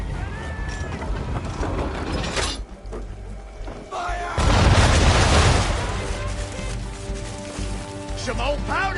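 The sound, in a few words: cannon broadside firing at a ship, video game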